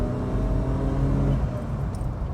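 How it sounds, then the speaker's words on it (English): A BMW E28 Hartge H5 SP engine revs up in a rising, sustained tone from inside the moving car, loud and steady, with no speech. "It really wants to rev, this engine."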